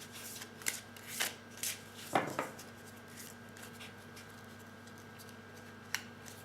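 Oracle cards of angels and crystals are shuffled and drawn in a quiet room, giving soft, sparse papery flicks and slides, a few sharper snaps scattered among them. The sounds are faint and close, with no talking.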